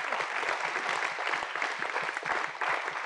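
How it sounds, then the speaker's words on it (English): Audience applause at a governance forum session, dense sustained clapping from a room of people for a few seconds, fairly even in loudness. "a round of applause, please"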